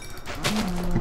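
A cow in the Minecraft video game gives a single drawn-out moo, loud and close, rising from a brief rustle into a steady low lowing that holds to the end.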